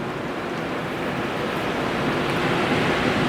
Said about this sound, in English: I enjoy the sound of the sea